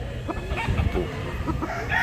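Rooster crowing amid clucking chickens, moderately close, with steady farmyard background noise and no talk.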